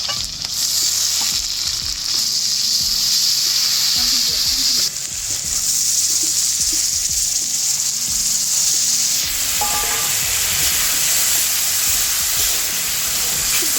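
Poppy seed paste and chilli-cumin paste sizzling loudly in a hot pan, a continuous bright hiss with stirring scrapes and a few surges as more goes in, close and unbroken.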